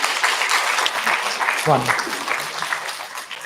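An audience applauds at a college induction program, steady clapping from a crowd close by that runs throughout, with a voice speaking over the clapping.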